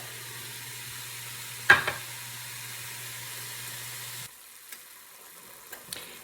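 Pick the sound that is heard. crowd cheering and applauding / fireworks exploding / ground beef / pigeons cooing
ground beef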